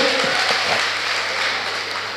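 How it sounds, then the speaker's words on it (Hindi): Audience applause at a Hindi poetry recitation, a broad continuous patter of many hands that stays fairly loud and even throughout. "यदि आपका मन हो तो एक बार आपकी तालियां बताएं"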